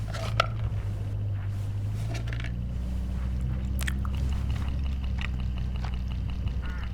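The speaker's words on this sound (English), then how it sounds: "Vou comer um pouquinho." A character eats food in the mystery game Hitchhiker, giving soft biting and chewing sounds over a steady low droning background, with no talk.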